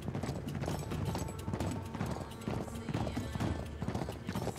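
Horse galloping in Uncharted 3: Drake's Deception, a steady run of hoof clip-clops that stays loud and close throughout, with a whinny rising above it at points.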